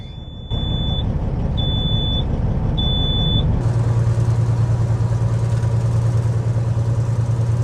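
Three short electronic warning beeps sound before a farm corn harvester engine cranks and catches, then settles into a loud, steady low idle rumble that continues to the end.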